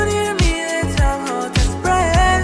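A sung vocal run through heavy reverb, delay, parallel compression, a limiter and a de-esser comes in short, bright phrases with gliding pitch, each one trailing off into a lingering wash of echo.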